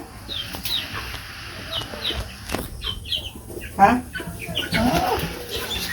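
Chickens cluck and call close by while being fed leaves and vegetable scraps, with bursts of wing flapping and scattered rustling throughout.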